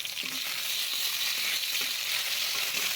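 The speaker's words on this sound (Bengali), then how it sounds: "মাছ ভাজা আমার হয়ে গেছে।" Fish fries in oil in a pan, giving a steady, close crackling sizzle with no voices over it.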